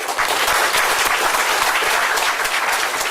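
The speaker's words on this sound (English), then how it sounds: "So one more round of applause for Steve." Dense, even applause from the audience at a community town hall, loud and continuous for about three seconds with no voices rising above it.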